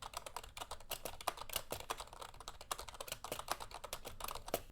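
Rapid, steady typing on a budget membrane keyboard up close, a dense run of soft clacking keystrokes with no voices.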